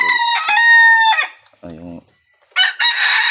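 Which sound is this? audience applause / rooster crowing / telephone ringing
rooster crowing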